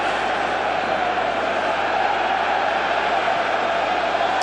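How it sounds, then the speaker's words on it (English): A stadium crowd cheers as a Mexican wave sweeps the stands at a 2001 UEFA Champions League qualifier between FC Haka and Liverpool, a loud, continuous roar with no breaks. "the cheering you can hear now inside the stadium has absolutely nothing to do with a football match. It's all to do with the Mexican wave"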